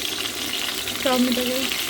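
Chicken meat fries in oil in a wok, a steady close sizzle with a short spoken voice rising briefly over it midway.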